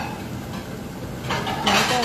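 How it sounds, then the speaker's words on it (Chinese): Garlic stir-fried in oil in a home kitchen, with close metallic clatter of a utensil against the wok over a low sizzle, louder scraping strokes in the second half. "妈咪放了油，放了蒜米，爆炒它"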